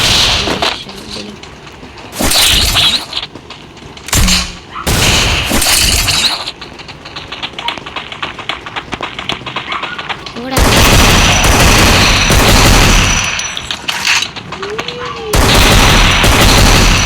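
Free Fire battle royale gameplay with bursts of gunfire and grenade blasts, loud broadband volleys coming in several waves of a few seconds each, separated by quieter gaps with some talk underneath.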